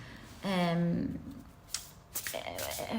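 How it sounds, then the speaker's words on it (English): Tarot cards are shuffled in quick, soft riffles and taps that come in short bursts near the microphone, after a brief hummed voice at the start. "We'll be shuffling on camera today."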